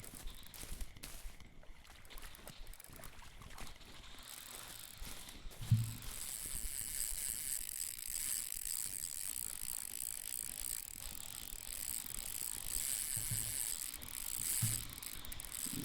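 In the Russian Fishing 4 game, a fishing reel's drag ratchets steadily as a hooked carp pulls line off the spool: a continuous fast clicking, moderately loud, with a few soft thumps, and no talking.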